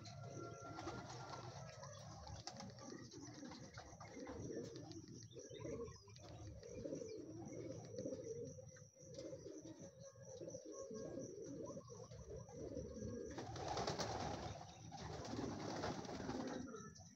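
Several racing pigeons coo continuously inside a loft during a pigeon race in Carmona, Cavite, a steady close murmur of overlapping calls with occasional chirps and no talk.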